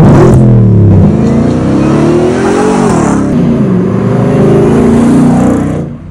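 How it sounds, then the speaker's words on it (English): Supercharged 700-horsepower V8 in a Ford Raptor R pickup truck revving hard, a loud close roar whose pitch climbs, dips and climbs again with supercharger whine on top, easing off at the end. "You get a supercharged V8 making 700 horsepower,"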